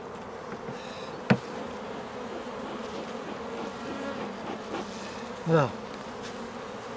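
Honey bees buzzing at an opened beehive during an early-season inspection, a steady low drone close by with a couple of brief knocks, and a voice speaks briefly.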